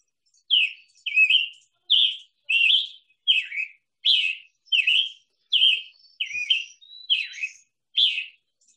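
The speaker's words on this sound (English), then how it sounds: "This is a scarlet tanager." A recorded scarlet tanager sings a series of about eleven short, hoarse, burry whistled phrases, evenly spaced and clear against a silent background, with no voices.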